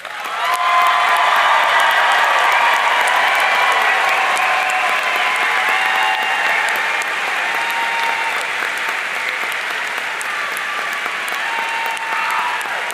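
A large audience at a graduation ceremony applauds first-generation graduates with broad, sustained clapping, strongest early and holding steady through the end, with faint cheers mixed in.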